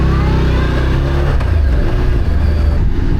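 A Morbidelli T1002VX 1000cc twin-cylinder motorcycle accelerates hard, its loud engine roar held steady and close throughout with a rising tone and no talk over it.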